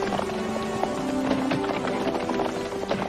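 Horse hooves clip-clop in a steady running rhythm along a riverbank, moderately close and continuous, with no talk over them.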